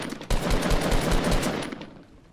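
Rapid gunfire in the Fortnite video game, a quick burst of several shots in fast succession, fairly loud, then fading out; no talking over it.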